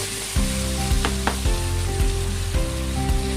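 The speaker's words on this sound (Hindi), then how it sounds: "बस इसको 5 से 6 सेकंड के लिए हमने फ्राई करना है, मसालों को जलाना नहीं" Spices frying in a hot pan for a salan with besan pakoras, a steady loud sizzle with occasional stirring scrapes and clicks, close and continuous without speech.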